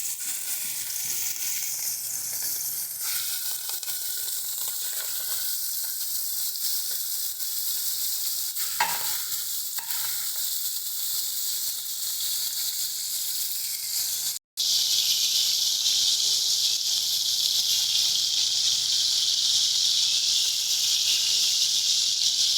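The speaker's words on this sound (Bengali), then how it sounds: "এবারে চিংড়ি মাছগুলো দিয়ে আমরা ভেজে নিচ্ছি" Marinated prawns on toothpicks fry in a pan for doi chingri, a loud steady hiss and sizzle throughout, with a brief stir midway and a short gap before the sizzle returns even brighter.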